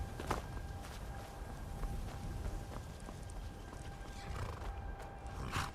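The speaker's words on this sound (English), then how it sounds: "My horse is there, ready to go." A horse walking in Skyrim's snowy terrain, with steady muffled hoof clops in a loose rhythm against a continuous ambient background.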